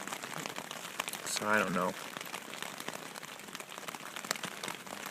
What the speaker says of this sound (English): The rain is definitely not fun